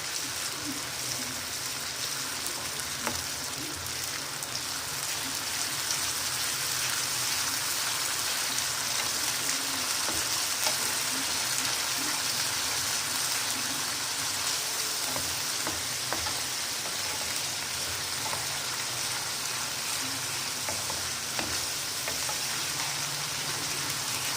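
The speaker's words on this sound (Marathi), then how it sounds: "छान परतून घ्यायचं, 2 मिनटं वगैरे लागतील।" Chili and tomato paste sautés in a pan for masala corn sabzi. It gives a dense, continuous sizzle and crackle, like light rain, with faint occasional stirring scrapes throughout.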